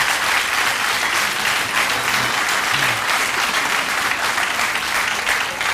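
A TV chat show audience applauds in a dense, steady wash of clapping that keeps an even loudness from start to finish, with faint voices beneath it.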